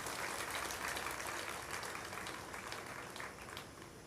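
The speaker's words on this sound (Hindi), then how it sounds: "अब मेरी तरफ से ताली बजाइए अपने लिए।" An audience at an evening satsang gathering in Panipat applauds, a dense steady wash of clapping that holds throughout and eases slightly toward the end.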